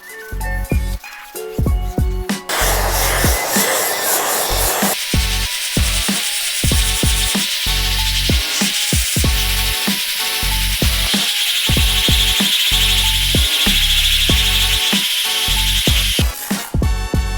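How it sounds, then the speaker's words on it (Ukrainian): A power sander with P120 abrasive grinds against body filler with a rough, buzzing whir, interrupted by short rhythmic bursts and clattering, loud and close. "Під'єднуємо шланг і спробуємо пошліфувати шпаклівку номером P120."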